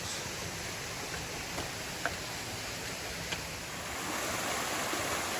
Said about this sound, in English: This is Cascade Falls.